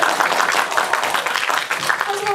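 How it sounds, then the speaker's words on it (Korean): Applause from a small cinema audience during a film's stage greeting, brisk clapping heard close while people keep talking over it. "박수를 한번 좀 드리죠."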